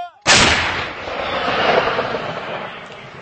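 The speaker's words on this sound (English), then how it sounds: "So they're about to fire this one now." An M777 howitzer fires once on the firing line in eastern Ukraine: a sudden, loud, close blast that rolls into a long, broad rumbling echo.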